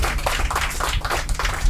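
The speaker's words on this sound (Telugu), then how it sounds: "ఒకసారి చప్పట్లు కొట్టండి." Church congregation clapping hands together in quick, fairly even bursts over a low steady hum, a short spell of group clapping filling the room.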